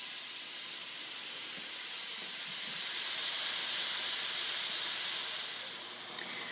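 Hamburger patties frying in a pan give off a steady, close sizzling hiss that swells slightly midway and runs on alone without talk.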